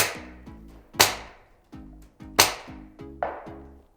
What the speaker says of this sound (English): there's an audible thud as it reaches the back of the range